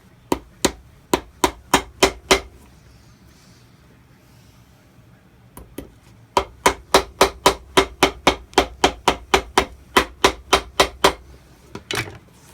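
Hammer nailing the layered heel onto an Allen Edmonds shoe during a leather restoration: two runs of sharp, evenly spaced close blows, about eight, then a short pause, then a longer run of around twenty steady strikes.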